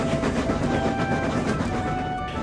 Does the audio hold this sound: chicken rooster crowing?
no